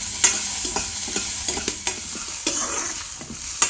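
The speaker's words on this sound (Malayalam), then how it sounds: "ഇതാ ഞാൻ ഉള്ളി ഇടുകയാണ്. ചെറിയ ഉള്ളിയാണ് എടുത്തത്." Small onions, about fifteen shallots, frying in a pan with a steady broadband sizzle and repeated scraping stirs of a spoon, close and fairly loud with no voices.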